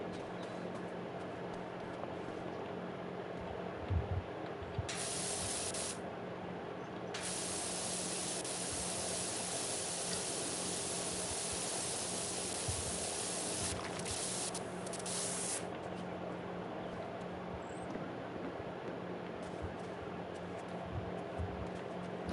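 Pressure washer in the video game Powerwash Simulator: long stretches of loud, hissing spray start and stop over a quiet low hum, with several bursts of varying length.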